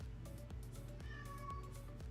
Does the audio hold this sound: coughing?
no